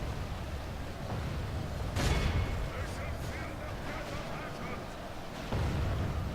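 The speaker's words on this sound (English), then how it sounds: "I don't know where all my cannon fire went" Heavy booming cannon shots from a Chaos Dwarf Earthshaker Cannon in a fantasy strategy video game battle, with a sharp blast near two seconds and another near the end over a dense, rumbling backdrop of battle noise.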